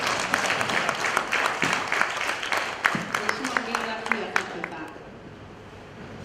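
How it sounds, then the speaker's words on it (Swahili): An indoor audience at a Tanzania Human Rights Defenders Day event claps for itself, a dense burst of applause that thins and fades out over several seconds, with voices mixed in. "naomba wote tuinuka tujipigie makofi kwa sababu ya still alive."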